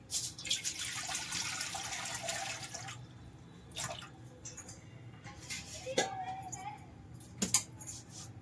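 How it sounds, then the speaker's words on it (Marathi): Water pouring into a kadhai on a gas stove, ready for boiling amla: a few seconds of steady splashing, then scattered drips and light clinks, faint and close by. "त्यात टाकणार आहे पाणी"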